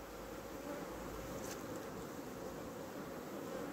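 A healthy honeybee colony hums steadily from an opened hive, a dense continuous buzz with no talk over it.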